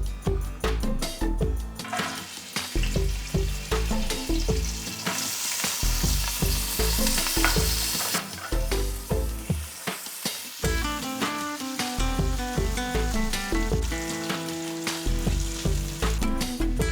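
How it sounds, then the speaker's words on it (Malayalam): Coconut pieces fry in coconut oil for duck curry, a loud close sizzle with repeated scraping stirs and bubbling crackle that carries on without any talk. "ഞാൻ ആദ്യം തേങ്ങാക്കൊത്ത് വറുത്ത് കോരാൻ പോവാണ്."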